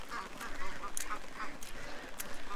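Ducks quacking in a wet outdoor pen on a rainy morning, repeated short quacks from several birds at moderate distance over steady rain patter, with a faint voice in the background.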